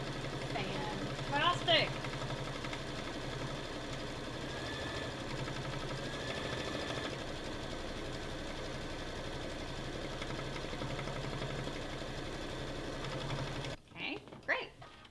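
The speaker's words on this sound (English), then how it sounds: "hit that green button to do our next stitch that's gonna stitch it all down" An embroidery machine stitching down an appliqué on a hot air balloon design, a steady close mechanical whirring hum that runs throughout, with a voice speaking briefly over the top near the end.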